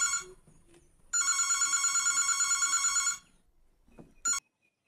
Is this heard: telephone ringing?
yes